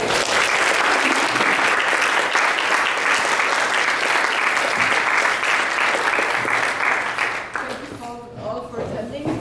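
Sustained, loud audience applause fills a lecture hall at the close of an academic panel discussion on India, the US and China, fading out near the end as the room settles.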